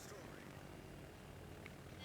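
Propeller fighter aircraft in the naval battle game World of Warships, heard as a steady, even engine drone with broadband rushing noise that holds for the whole stretch without rising or fading.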